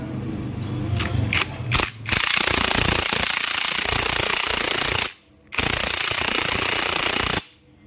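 A TVS Apache 200 4V clutch nut is tightened with a Hero Honda puller, giving loud, continuous metallic rattling and ratcheting in long bursts with short pauses between them.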